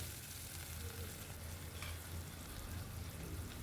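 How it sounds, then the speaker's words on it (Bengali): Tomato and onion fry together in a pan for a Bengali masoor dal dish, giving a steady, soft sizzle that runs without a break and without talk. "টমেটো আর পেঁয়াজটা একসাথে ভেজে নেব যতক্ষণ না টমেটোটা একটু গলে যাচ্ছে"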